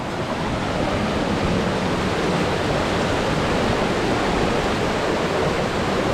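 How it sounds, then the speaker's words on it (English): A waterfall on Sulphur Creek in Capitol Reef roars as dense, steady rushing water, close and unbroken throughout, with no voices. "So I think we're at the first waterfall."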